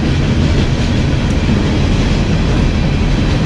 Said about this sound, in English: Sometimes the trains are really long.